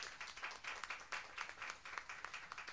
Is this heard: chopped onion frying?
no